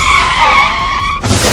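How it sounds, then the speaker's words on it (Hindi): A car braking suddenly on a highway, its tyres letting out a loud, sustained skidding screech that breaks off abruptly into a rougher, noisier rush near the end. "कार ड्राइवर ने अचानक ब्रेक लगाई, जिसकी वजह से कार बेकाबू हो गई"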